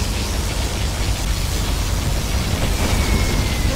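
A sustained, roaring blast from a particle cannon superweapon in Command & Conquer Generals Zero Hour, a steady broadband rumble lasting the whole stretch with no pause.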